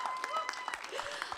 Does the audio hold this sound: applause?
yes